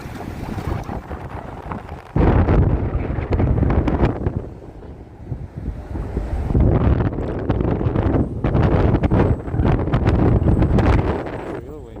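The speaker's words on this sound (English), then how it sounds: "Real windy" Strong wind buffets a microphone outdoors on a Brooklyn street, with loud rumbling gusts that rise and fall in surges and brief lulls, and speech heard faintly under the roar.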